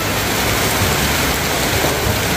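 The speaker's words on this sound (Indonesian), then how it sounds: "Nah, teman-teman, tiba-tiba hujan deras." Sudden heavy rain pours down at a theme park, a dense, steady hiss of downpour filling the space loudly and continuously without a break.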